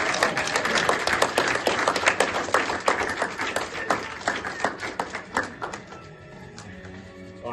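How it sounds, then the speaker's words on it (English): An audience at a documentary screening gives a round of applause, a loud, dense clapping that thins out toward the end into a few scattered claps. "Round of applause for these two"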